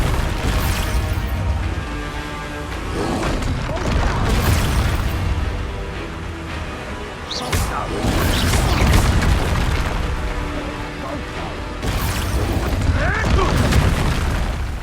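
Confringo fire-blast spell cast in the Hogwarts Legacy video game, booming explosive bursts repeated over layered battle effects and music, loud and close with crackling debris between blasts.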